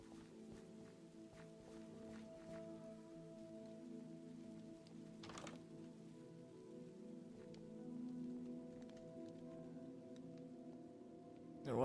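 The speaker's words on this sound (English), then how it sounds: "Standing out in this rain isn't gonna do me any good." Steady rain falls in the Minecraft video game, a soft continuous patter and hiss that holds evenly throughout with no voices, alongside faint shuffling that may be footsteps.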